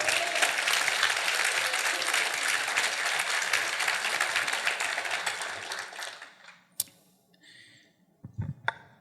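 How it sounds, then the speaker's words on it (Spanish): A church congregation at a Sunday service applauds loudly and steadily for about six seconds, then the clapping fades out into a few scattered clicks and knocks. "Denle un aplauso al Señor."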